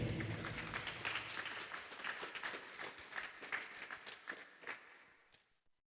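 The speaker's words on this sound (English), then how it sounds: "Let's give them a big round of applause for their dedication." An audience at a robotics league tournament awards ceremony in Alberta applauds steadily, with crisp individual claps that thin out and fade away near the end.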